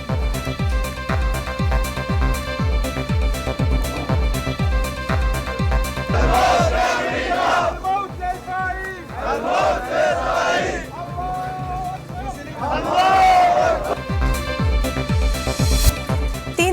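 A crowd of protesters chants against the war in loud surging bursts of massed voices, recurring over a rhythmic pounding beat and a dense background.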